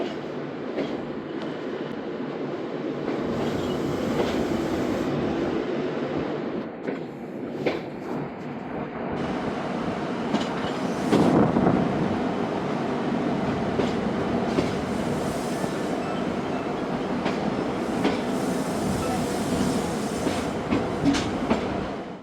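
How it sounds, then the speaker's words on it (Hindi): Karachi Express passenger train pulling out of Khanewal station, with a steady rumble of rolling railcars, rhythmic clickety-clack of wheels on track and occasional metallic squeals, heard from onboard. "ट्रेन खानेवाल से रवाना हो रही है"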